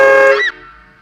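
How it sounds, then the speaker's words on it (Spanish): A truck-style metal dual-tone horn fitted to a car gives one short, loud, blaring honk that cuts off abruptly. "cómo poner una bocina de camión en el coche"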